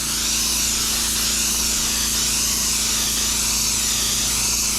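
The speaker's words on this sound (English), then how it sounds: "You want to spray into it." Spray gun laying a light coat of paint onto repaired bodywork of a 2006 Porsche Cayenne, a steady, close, uninterrupted hiss of atomized paint with a faint compressor hum beneath.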